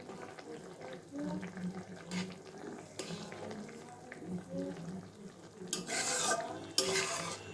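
Mustard gravy bubbling in a pan as hilsa fish are added, soft simmering and stirring with clinks of a utensil and brief splashy bursts near the end, a voice talking over it.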